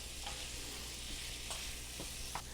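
Marinated artichoke hearts cooking in an oiled pan, a steady close sizzle and fry with a few brief stirring scrapes and clicks, alone without talk.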